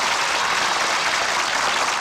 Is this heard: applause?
yes